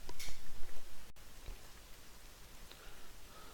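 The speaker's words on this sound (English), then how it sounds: "And it's raining again." Steady rain pattering down in World of Warcraft, a continuous soft hiss with a few brighter drops, a little louder during the first second and then even and moderate to the end.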